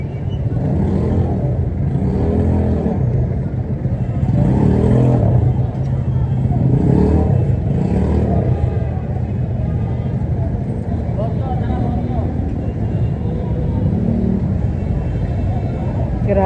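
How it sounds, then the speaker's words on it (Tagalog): Dense Manila street traffic: a steady roar of car and bus engines with swelling rumbles, continuous and close, under a person talking. "grabe ang traffic, sobra"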